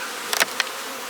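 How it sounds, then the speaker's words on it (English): Honey bees flying at a hive entrance, a steady close buzzing drone with a couple of louder passes as bees zip by the microphone. "A lot of times that's orientation bees trying to get out for their first flight."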